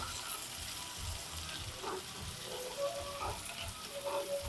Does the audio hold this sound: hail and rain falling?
no